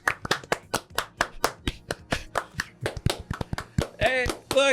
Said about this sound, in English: Everybody clap your your hands.